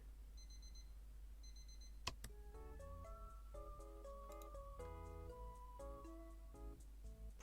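A faint double beep, then a sharp click and a synthesized video game alarm clock melody of chiming tones repeating in a bright electronic rhythm.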